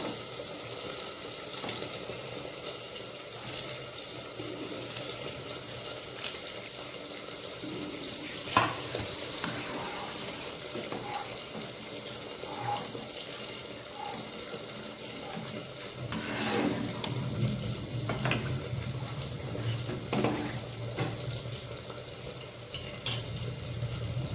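Soaked rice and lentils for khichuri go into a pot of boiling water on a gas stove, giving a steady low bubbling and watery churn with occasional splashes and clinks of stirring, continuous throughout without talk.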